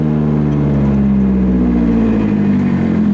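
A Hyundai Sonata engine drones loudly and steadily up close with its exhaust valve open, a deep throaty exhaust rumble holding at a constant pitch.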